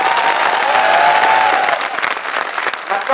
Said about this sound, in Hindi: गौतम सर के लिए जोरदार तालियां